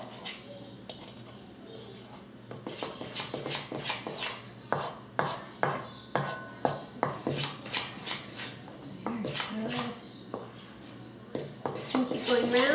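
A spoon scrapes and knocks steadily around a bowl while brownie mix is stirred, a quick irregular clatter of clicks with a person talking now and then in between.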